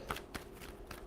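A tarot deck shuffled by hand, a brief soft riffle with a couple of light card slaps, close and quiet with no talk.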